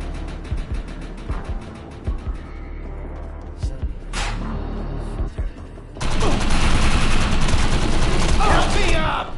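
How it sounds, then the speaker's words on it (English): Gunfire from raiders in the video game Defiance 2050, sustained automatic bursts and single shots trading back and forth, swelling into a dense, loud barrage in the second half, with a player's voice over the fighting. "I'm under fire!"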